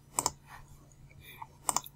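Mouse clicks while selecting an Android app menu item, two quick double-clicks about a second and a half apart, close and crisp against a faint quiet background.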